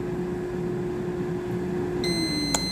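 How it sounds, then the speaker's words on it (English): A steady air fryer hum runs throughout while pork chops cook, then a series of electronic done beeps begins near the end, with one sharper beep standing out. "I'm just waiting for it to beep"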